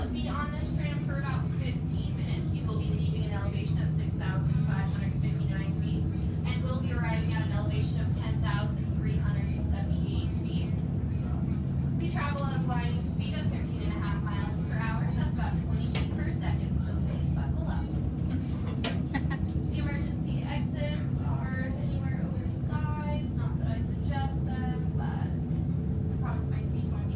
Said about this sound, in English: We will be on this tram for about 15 minutes.